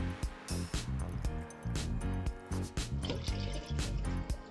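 Angostura 7 aged rum pours into a cocktail shaker with gurgling, uneven glugs and splashes, close and fairly clear, with no talking.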